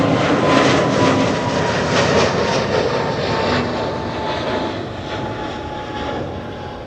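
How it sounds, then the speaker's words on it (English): A Delta Airbus A350 jet at Amsterdam Schiphol Airport roars loudly and steadily, a broad, continuous engine rumble that fades slightly toward the end. "that's the Delta A350 to Minneapolis"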